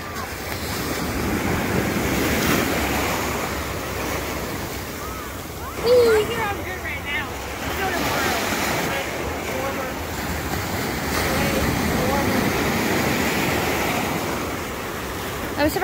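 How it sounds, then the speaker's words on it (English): Cold ocean surf in August rolls in as a steady wash of breaking waves, mixed with wind buffeting the microphone and a brief bump near the middle, with no clear talk over it. "The freezing cold ocean."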